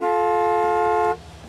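A single steady car horn blast sounds in the video game Gas Station Simulator, loud and close, holding for about a second before cutting off.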